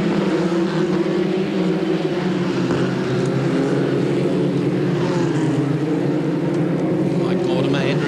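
Formula Ford race cars from a 1988 Motorcraft Formula Ford Series round at Sandown scream up the back straight, with a continuous, loud, buzzing engine note that shifts slightly in pitch and runs under a commentator's voice.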